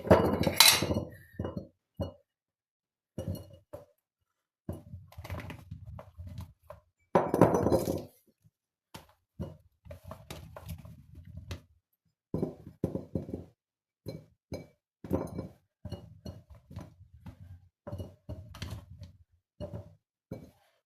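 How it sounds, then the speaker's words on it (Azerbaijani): Sour plums are dropped into glass jars in a home kitchen, making a series of scattered clinks, knocks and rattles against glass, close and fairly quiet, with short silences between bursts. "Deməli, bankalarımızı götürürük. İçinə alçalarımızı əlavə edirik."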